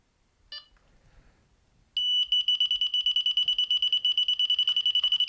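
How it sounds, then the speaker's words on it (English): After a short chirp, a Delkim fishing bite alarm starts beeping rapidly and continuously at a single high pitch, loud and close. "So you can slow down or speed up the beeps."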